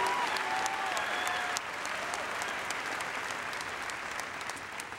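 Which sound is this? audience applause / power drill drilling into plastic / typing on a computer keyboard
audience applause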